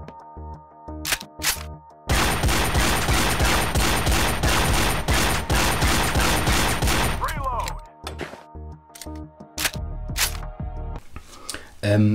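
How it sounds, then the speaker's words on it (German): Rapid sustained gunfire from a video game shooting range aimed at cardboard targets, a dense burst of shots lasting several seconds, bracketed by a few isolated cracks and clicks before and after. "dass man auf Pappfiguren schießt, so wie man das kennt"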